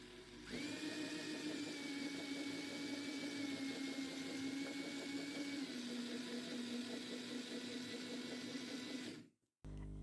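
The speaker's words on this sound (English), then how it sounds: "when I press the forward button, the motor rotates forward" A small DC motor controlled by an ESP32 spins steadily with a close, even whine and faint pitch shifts, running for about nine seconds before cutting off abruptly.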